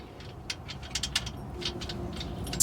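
A ratchet wrench drives a car's oil drain plug back in, a series of quick, close clicks in uneven bursts over a low background hum.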